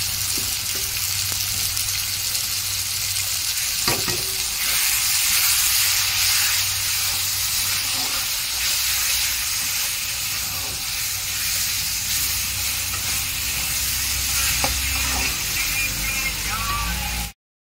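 Cumin powder and red chilli powder for a fish curry fry in a pan, giving a steady close hiss and sizzle that runs throughout with a few small clinks.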